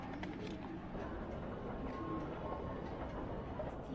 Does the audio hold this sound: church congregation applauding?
no